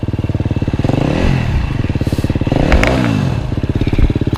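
A dirt bike engine revs hard during hard enduro training, loud pulsing bursts of throttle rising and dropping close by, with a rattly clatter between revs.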